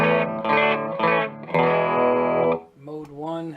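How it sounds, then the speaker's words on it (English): An electric guitar runs through a distortion pedal in a dark rhythm mode, thick buzzing chords played loud and close in several sustained strums with a heavily effected tone. "Mode 1 is a darker sort of rhythm distortion."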